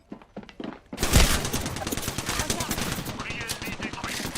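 Rapid automatic gunfire erupts in the video game Apex Legends after a second of quieter game sound, a loud sustained burst of shots continuing to the end, with faint voices underneath.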